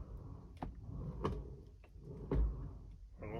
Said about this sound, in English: Let's listen to that door and see if it.